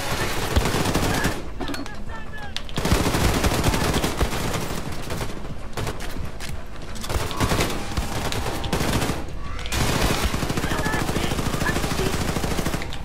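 Machine gun fire in Wolfenstein: The New Colossus: long, loud, sustained automatic bursts rattle almost without pause, broken by a few brief gaps between volleys.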